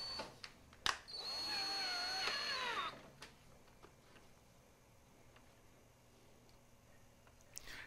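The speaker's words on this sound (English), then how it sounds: "so now I can put a couple of screws in the front." A power screwdriver drives screws into the front of an Ampex VR-1200B videotape machine, one steady whirring run of about two seconds preceded by a click, followed by quiet handling noises and faint ticks.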